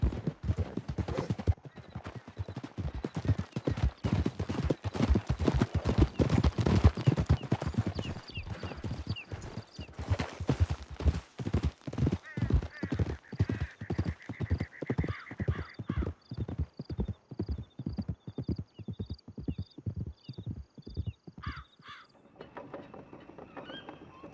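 Horses galloping during a ride in Red Dead Redemption 2, a fast, steady drumming of hooves close by for most of the stretch, with mechanical clinks and a neigh, then slowing to quieter steps at the end.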